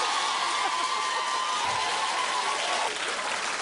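A studio audience claps and cheers in a dense, continuous wash of applause that holds steady at close range from start to finish, with a few whoops rising above it.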